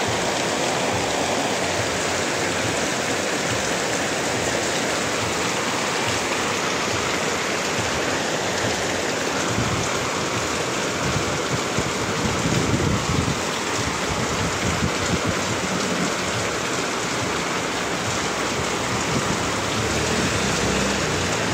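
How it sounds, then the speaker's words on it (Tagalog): Heavy rain pours steadily over an open vegetable garden in the early evening, a dense, constant roar of water hitting leaves and surfaces, loud and unbroken throughout with no voices. "Ingat po kayo sa malakas na ulan."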